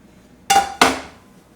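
Corned beef lands in a pie dish on top of potatoes, giving two close, sharp clinking knocks against the dish, about a third of a second apart, followed by a brief fading ring.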